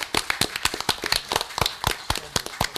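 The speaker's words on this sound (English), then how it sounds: "But I would like to give you a round of applause." Council meeting attendees applaud a retiree, brisk distinct handclaps from a small group close by, rhythmic and uneven over a few seconds.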